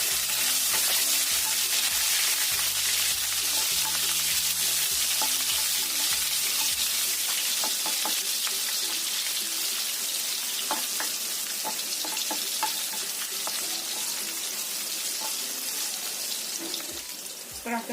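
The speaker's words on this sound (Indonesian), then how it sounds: "Ini kita tumis dulu bawang merah dan juga bawang putihnya sampai harum." Shallots and garlic sautéing in hot oil in a pan, a loud, continuous crackling sizzle with occasional stirring clicks close up, while a low tonal hum plays underneath during the first several seconds.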